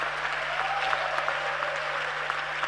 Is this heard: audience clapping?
yes